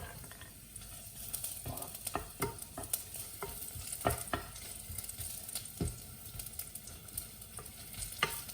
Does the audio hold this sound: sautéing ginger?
yes